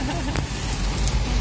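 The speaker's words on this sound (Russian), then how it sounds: "Ливень прямо." Heavy summer downpour at Omega Bay in Sevastopol, a dense steady hiss of rain filling the clip without pause, close and fairly loud, with a faint voice in the background.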